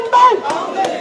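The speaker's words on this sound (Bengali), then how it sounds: "বর্তমানে সরাসরি দেখতে পাচ্ছেন এই আওয়ামী লীগ নিষিদ্ধের দাবিতে রাষ্ট্রীয় অতিথি ভবনের সামনে যে স্লোগান হচ্ছে" Protesters chanting slogans in front of the state guest house at night, a loud crowd of voices rising in short bursts of shouted chant that continue throughout.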